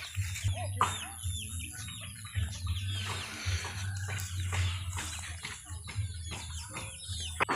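Backyard chickens cluck in repeated short bursts at moderate distance, with a steady low hum and scattered bird chirps around them; no one speaks.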